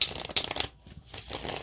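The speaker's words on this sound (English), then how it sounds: "now it wants to be shuffled" Tarot cards being shuffled by hand, giving a close, crisp run of riffling and slapping bursts that stop briefly, then resume more softly.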